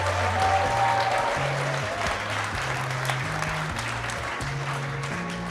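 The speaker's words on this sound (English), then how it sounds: "Can we get a big round of applause for everyone who picked?" Audience applause at a startup pitch night investment summit, sustained dense clapping from a crowd with a low musical hum underneath.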